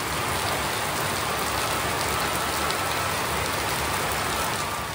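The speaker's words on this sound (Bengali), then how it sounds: "বাইরে আবারও বৃষ্টি শুরু হয়ে গেল।" Steady rain falls outside at night, a dense even hiss of drops on surfaces that holds constant and fairly loud throughout with no voices.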